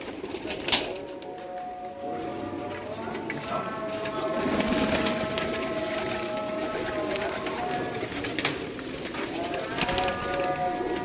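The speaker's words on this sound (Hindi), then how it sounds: "आपको इनके कबूतर दिखाता हूँ" Pigeons cooing softly inside a cage, low repeated coos with some rustling and fluttering, fairly quiet, with people talking nearby.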